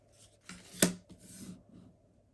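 Tarot cards are shuffled in a short, quiet riffle, with soft rubbing and a sharp flick near the middle and nobody talking.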